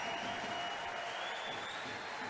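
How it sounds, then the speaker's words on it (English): An ice hockey crowd applauds the Nottingham Panthers in their game against the Belfast Giants, a steady wash of clapping filling the arena at an even, moderate level. "Crowd showing their appreciation there for the quick start the Panthers have made."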